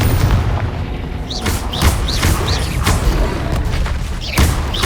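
Repeated Confringo blasting-spell explosions from the video game Hogwarts Legacy, a series of booming bursts with whooshing spell tails, spaced roughly every half second to second over a continuous dense battle din.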